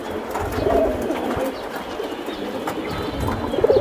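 An old silver-necked Giribaj pigeon coos close by in a few low, throaty bursts over a busy background of shuffling and other birds, the calls rising near the start and again at the end.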